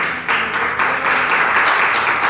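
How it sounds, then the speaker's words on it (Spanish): A church congregation breaks into steady applause, a dense wash of many hands clapping at close range with no talk over it. "Denle un aplauso al Señor."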